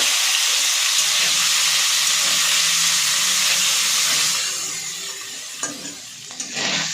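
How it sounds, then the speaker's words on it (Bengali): Paneer pieces sizzle lightly in hot white oil, a loud, steady hiss of frying that holds for several seconds, then eases off with a few stirring clinks near the end. "পনিরগুলো একটু ভেজে নেব হালকা করে"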